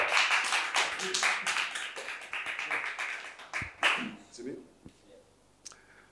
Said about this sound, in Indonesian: tepuk tangan buat Erwin, Erwin Belo